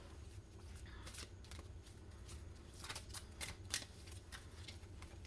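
Soft, steady riffling of tarot cards being shuffled, a continuous papery flutter with small snaps, quiet and close, no voices.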